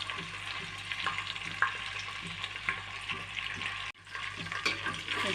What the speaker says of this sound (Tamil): பிரியாணி இலை, சாதிப்பத்திரி, 2 ஏலக்காய், பட்டை, கிராம்பு, கல்பாசி, அன்னாச்சிப்பூ எல்லாமே இப்போ போட்டு இதில் நல்லா ஃப்ரை பண்ண போகிறோம்